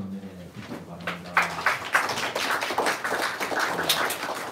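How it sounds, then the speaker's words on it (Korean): Church congregation applauding during a Sunday morning service, a broad wash of scattered hand claps rising after a low opening and continuing steadily through to the end. "우리 성도님들 박수로 격려해 주시기 바랍니다."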